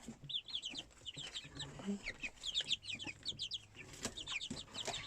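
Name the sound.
chickens and baby chicks clucking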